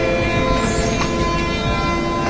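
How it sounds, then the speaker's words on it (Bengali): A coal-laden goods train rumbles past on an Indian line between Howrah and Dhanbad, a loud, continuous roar of rolling wagons filling the whole stretch with no talk. "পাশ দিয়ে মালগাড়ি যাচ্ছে, কয়লা বোঝাই।"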